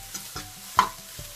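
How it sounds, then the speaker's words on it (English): Fish and vegetables sautéing on a hot plate, soft sizzle under occasional stirring scrapes and one sharper clink, close and fairly quiet. "So let's just saute these up a little bit."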